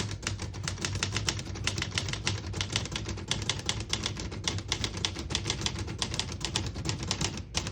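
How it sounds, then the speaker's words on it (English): Rapid, steady keystrokes on a 1961 Olivetti Lettera 31 portable mechanical typewriter clack close by, with brief irregular pauses and no voices. "I'll type a sentence on the next line."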